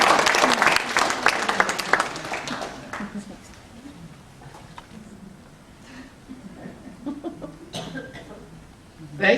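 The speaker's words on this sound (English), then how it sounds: "let's give a warm round of applause" An audience claps warmly for a volunteer named Michelle at a live talk. The dense, loud applause peaks at the start and thins out after about three seconds into scattered claps, light chuckles and murmured voices.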